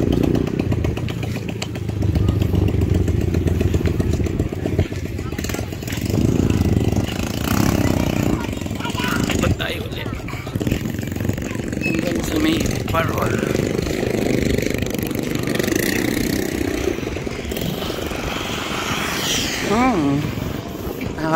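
Motorcycles pass along a seaside baywalk at night, engines droning steadily and fairly close, with swelling revs as they go by, mixed with crowd noise and voices.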